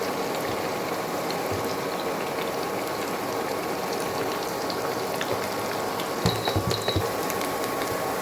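Onions sizzle in hot oil while a chicken curry is being cooked, giving a steady, dense crackle and hiss that lasts throughout. A few brief clinks come near the end, with no talk over it.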